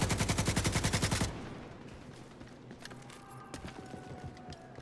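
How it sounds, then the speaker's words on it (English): Rapid automatic gunfire in The Division 2, a loud steady burst of evenly spaced shots for over a second, then scattered distant shots and clatter over a busy combat background. "Who's shooting at me?"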